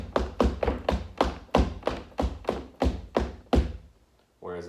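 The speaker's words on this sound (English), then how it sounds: "if someone's coming down, it's very much just an impact staccato sound like this" Foley footsteps coming down a staircase: about ten crisp, evenly spaced staccato impacts close up and fairly loud, followed by a brief pause and a voice beginning to speak.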